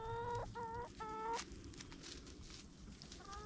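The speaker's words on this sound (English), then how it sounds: "Darn it, rooster." Rooster crowing at close range on an outdoor property with a lake and waterfalls under construction: three loud, harmonic, stretched calls in quick succession over the first second and a half, then only a noisy outdoor background.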